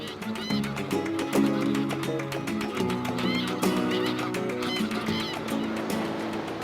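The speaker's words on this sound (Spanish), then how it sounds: "Una de las especies más abundantes es el ánsar común" Greylag geese in a national park wetland honk in a busy chorus of overlapping calls, with layered nasal cries continuing throughout at moderate distance over a steady background.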